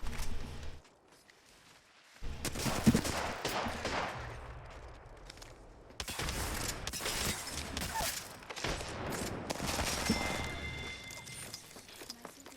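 Apex Legends gunfire crackles in bursts with impacts and shattering effects, moderately loud and dense, broken by a brief lull early on.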